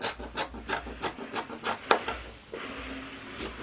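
Scissors cutting fabric along a sewing pattern line, a quick series of about ten rhythmic rasping snips up close, followed by a softer continuous rustle.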